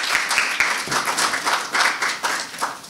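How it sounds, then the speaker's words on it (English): Audience applause for a speaker at a TEDx community event, steady dense clapping from a crowd at moderate loudness, unbroken for the whole stretch with no voices over it. "So please give a round of applause for Heather Doty, please"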